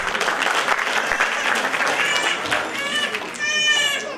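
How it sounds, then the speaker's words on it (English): Applause from an audience at a school annual day, broad steady clapping throughout with children's voices rising toward the end. "let's give a round of applause to ma'am"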